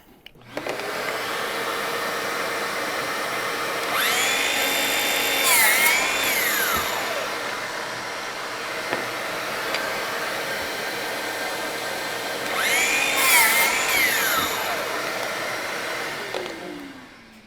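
Power tool cutting Evolve Stone manufactured stone veneer to make a miter: two separate whining cuts, each a few seconds long, rising and falling in pitch, with a steady background hum between them.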